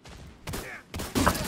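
Gunfire in a video game comes as a few quick, moderately loud shots in separate bursts, with no talk over them.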